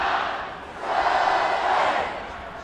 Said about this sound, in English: Crowd getting into it here on homecoming night.